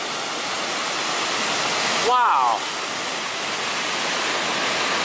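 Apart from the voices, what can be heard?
rushing mountain water on the Pacific Crest Trail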